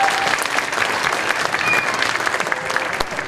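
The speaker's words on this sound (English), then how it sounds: "one more round of applause for Miss Kruger." An elementary school audience claps for Miss Kruger at a school celebration, a brief burst of dense, steady applause filling the room throughout.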